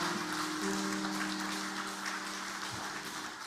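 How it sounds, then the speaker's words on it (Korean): A church congregation at a Sunday service claps for the choir, a steady wash of applause heard from a distance and fairly faint, with a low sustained tone running underneath. "박수 한번 해주시죠"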